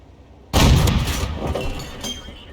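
A tank cannon shell strikes in a video game tank battle: one sudden heavy blast with a metallic crack, followed by a long rumbling, rattling decay.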